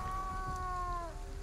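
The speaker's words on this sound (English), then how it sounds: "Quiet, kitty cat." A cat in the video game Ghostwire Tokyo gives a single drawn-out meow with a steady pitch that drops slightly at the end, heard clearly over a soft, constant hiss like rain.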